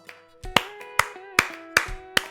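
Seven sharp hand claps ring out in an uneven rhythm, close and fairly loud, each a crisp burst that fades quickly, with no talking between them.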